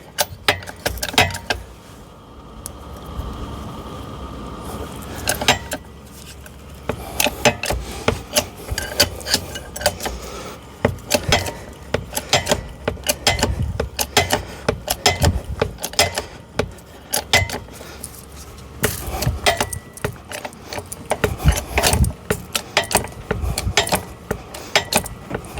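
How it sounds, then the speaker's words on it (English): A hydraulic bottle jack is pumped by hand to raise a low-profile car ramp, giving irregular clusters of metallic clicks, clanks and scraping rattles, close and fairly loud, with brief pauses between strokes. "So again, put this into a bottle jack."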